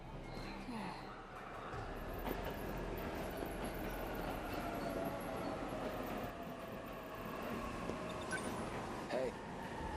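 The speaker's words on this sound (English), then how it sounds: "The train's already here." A train pulls into a station in the video game 13 Sentinels, with a soft, continuous rolling rumble and faint clanks, quiet throughout, and voices talking over it.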